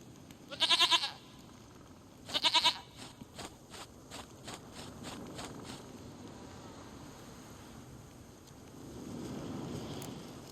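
A goat in the video game The Witcher 3: Wild Hunt gives two short, quavering bleats close by, followed by a run of faint rapid clicks over a soft ambient hiss.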